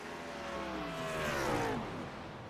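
A race car in the iRacing sim lifts off the throttle during a NASCAR ARCA Series race, its engine note falling away over a couple of seconds in a steady, fairly loud drone with no talk.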